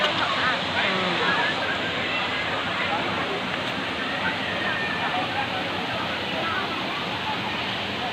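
At the top of the waterfall at Phnom Kulen in Cambodia, a broad, steady roar of falling water fills the scene close by, while a voice talks faintly beneath it.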